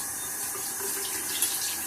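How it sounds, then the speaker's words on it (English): Tap water runs steadily from a faucet while a vegan body scrub is rinsed off the skin, a continuous close hiss with slight splashing and no talking. "And then just rinse it off."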